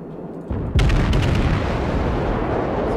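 Heavy naval gunfire from a warship engaging a battleship in World of Warships: a quiet hum broken by a sudden loud boom, then a rumbling roar of salvos and explosions that holds steady.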